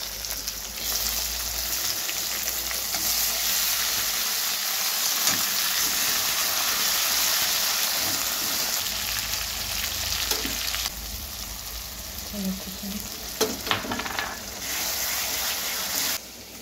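Vegetables sizzle steadily in hot oil in a pan, a dense continuous frying hiss with occasional stirring clatter and scrapes, close and fairly loud, with no voices.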